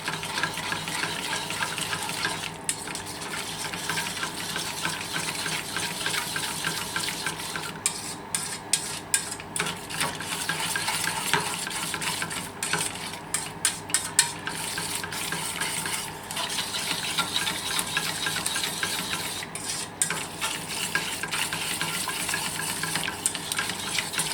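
Gravy sizzles in a pan after cold water is added, with continuous crackling and frying hiss and a spoon stirring and scraping throughout, close and steady with no talk.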